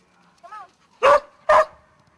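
A puppy gives a faint short whimper, then two loud, close barks follow in quick succession with a short gap between them.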